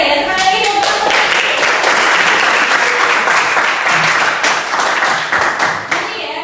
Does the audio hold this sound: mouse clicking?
no